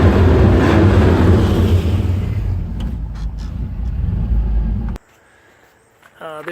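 A 1974 Jaguar XKE V-12 roadster with its engine running, a loud, full low rumble that holds steady and then cuts off abruptly, followed by quiet and a few faint clicks.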